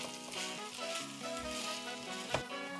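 Kimchi fried rice, with a single portion of rice stirred in, frying in a hot pan: a steady, close sizzle with soft scraping as it is mixed, plus a brief sharper clink near the end.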